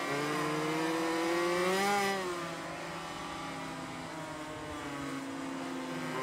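Racing-game motorcycle engine held in first gear on a track at Catalunya, a steady tonal drone with a slight rise then a dip in pitch, continuous and loud with no speech.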